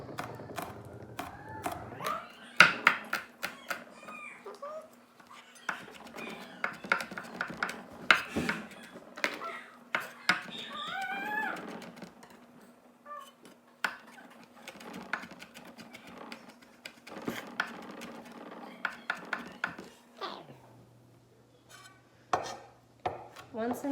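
A knife mincing garlic on a cutting board, making bursts of quick, sharp chopping taps spread over the stretch with short pauses and a steady low hum underneath.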